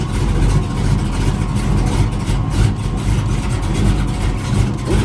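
A race car engine idles loudly and steadily with a rough, low rumble, close by and continuous, without any clear revving.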